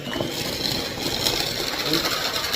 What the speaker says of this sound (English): It's still quite powerful for a little whisk into it.